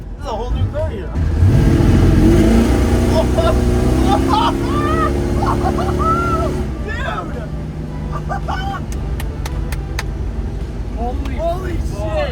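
Ford Courier car engine roaring and revving hard on the road, loud and close, easing back to a rumbling cruise, with excited voices talking over it.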